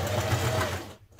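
Sewing machine stitching a back tack on a skirt seam, a steady close whirring run that stops abruptly near the end, leaving near silence.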